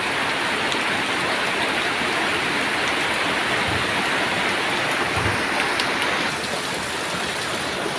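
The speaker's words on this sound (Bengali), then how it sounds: "টিনের চালের বৃষ্টি রিমঝিম রিমঝিম আওয়াজ অসম্ভব সুন্দর লাগতেছে দেখেন" Heavy rain drums steadily on a tin roof, a dense continuous patter with no pauses, close and loud throughout.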